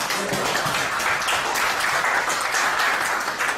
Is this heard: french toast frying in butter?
no